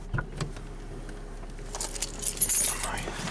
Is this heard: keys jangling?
yes